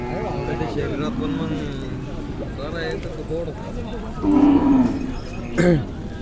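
Khillar and Mysore cattle at the crowded Pandharpur bullock market give two loud, near moos over steady crowd noise, while a person talks throughout.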